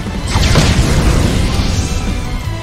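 A fire spell lands in battle in Octopath Traveler II, a loud roaring burst with a sweeping whoosh that swells quickly and holds steady for a couple of seconds.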